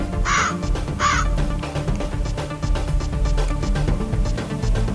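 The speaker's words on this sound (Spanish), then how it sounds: "muchos cuervos comenzaron a bajar a picotearlos a todos" Crows caw twice in a story sound effect, two loud harsh calls close together near the start, set against a full, busy backing that carries on to the end.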